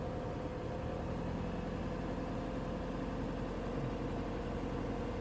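A 2007 PT Cruiser engine held at a raised, steady RPM of about 1,500, a continuous even drone without any speech.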